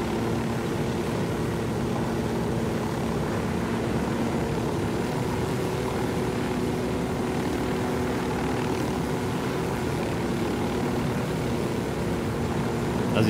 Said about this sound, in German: Also irgendwie fliegt der Helikopter gerade komisch.